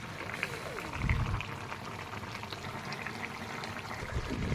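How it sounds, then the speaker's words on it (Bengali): Spicy jali fish curry bubbles in a pan on the stove, a steady close simmering hiss with occasional louder pops and gurgles. "কত সুন্দর ফুটছে দেখুন।"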